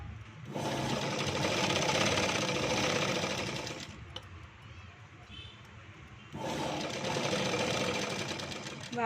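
A sewing machine stitches piping around a potli neckline design, two loud close runs of fast steady motorized whirring separated by a short quieter pause with faint handling sounds.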